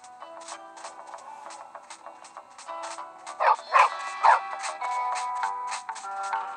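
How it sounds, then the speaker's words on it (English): Dog barking in the video game Bully Scholarship Edition, with yips and bow-wows, including a few louder close barks in the middle, over game music and background noise. "Get out of here, you stinking dog."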